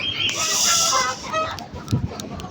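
Hens cluck and squawk close by in a short, busy burst, a few sharp calls followed by softer clucks.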